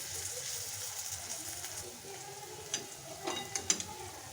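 Ivy gourd stir-fry (tondli bhaji) is stirred in a pan, with a low steady sizzle and a few scraping clinks of the spatula toward the end, close and fairly quiet.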